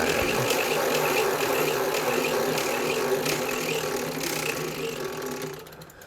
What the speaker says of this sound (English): So the wheel would spin.